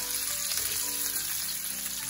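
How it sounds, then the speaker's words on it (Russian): Steady, close sizzling of chicken frying in a hot pan, a constant crackling hiss with no voices. "Курицу жарим несколько минут, пока она не станет красивого золотистого цвета."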